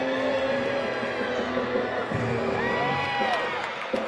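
Crowd at a college women's gymnastics meet cheering and whooping, a moderate wash of shouts and voices with a few high whistles, heard at a distance and moderately quiet.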